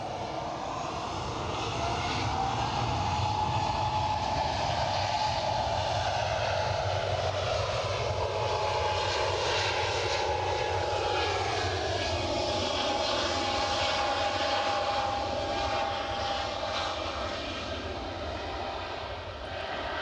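An EasyJet airliner departs for Amsterdam, its engines a loud, steady roar that holds for the whole stretch with a slowly shifting whine, alone with no talk over it.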